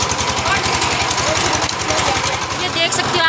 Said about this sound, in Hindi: ट्रैक्टर को हाथ से पकड़ के, पूरे खेत की जुताई करेंगे